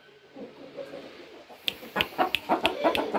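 A rooster in a roomy pen on natural ground gives a run of short, close clucks in quick succession after a quieter stretch of soft murmuring fowl sounds.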